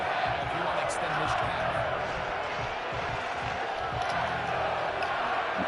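A stadium crowd in the Madden 25 football video game gives off a constant, loud roar and murmur with faint shouts and thuds, under someone talking throughout.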